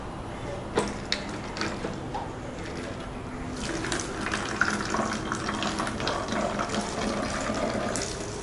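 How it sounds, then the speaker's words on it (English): Vinegar poured into a bottle for a simple air-pressure chemistry experiment, a steady liquid gush and trickle that grows fuller over several seconds, preceded by a few small clinks, close and without speech. "I add vinegar."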